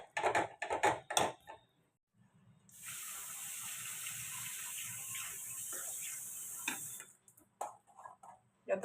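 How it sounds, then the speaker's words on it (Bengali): Water being poured a little at a time into ghee that is being beaten by hand: a steady splashing, running-water wash lasting several seconds, bracketed by short bursts of speech before and after. "দেখো জল দিচ্ছি একটু করে আর ফাটছি"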